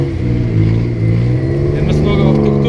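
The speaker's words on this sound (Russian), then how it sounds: "Это снова в тук-тук." A tuk-tuk engine drones steadily at close range during the ride, a low continuous rumble with slight revving, while a passenger talks over it.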